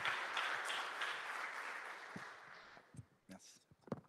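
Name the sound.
audience applause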